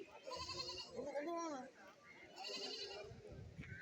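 Goats tethered on a Kerala goat farm bleat repeatedly at close range, wavering cries rising and falling over steady farmyard background noise, with someone talking between and over the calls.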